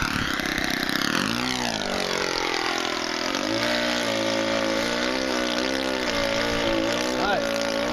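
An OS 120 four-stroke engine on a model airplane flying overhead, a continuous buzzing drone whose pitch sweeps up and down as the plane banks and passes, heard from a distance in the open.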